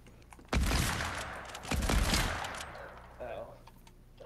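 Gunfire in Fortnite crackles in two rapid bursts, the first sharp and sustained, the second following after a short gap and then tailing off into fainter shots, loud and close.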